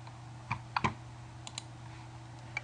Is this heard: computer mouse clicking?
yes